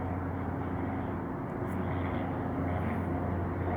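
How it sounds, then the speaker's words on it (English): A small plane flying overhead, a steady broad engine drone that stays constant and fairly loud throughout, with no voices over it. "Got another small plane now, I don't know where it is."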